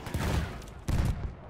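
Video game gunfire aimed at the player, loud, dense bursts of rapid shots in two waves, close and harsh, with no talking over it.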